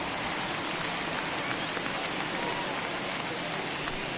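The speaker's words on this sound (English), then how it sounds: "we've mentioned the conditions aren't ideal with the rain coming down" Steady rain pouring down on a ballpark in MLB The Show 2021, a continuous even hiss with faint crowd murmur underneath and no distinct voices.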